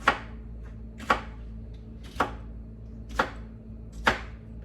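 A single jalapeno being chopped with a knife on a cutting board: five sharp, evenly spaced chops about a second apart, close and crisp over a quiet low hum.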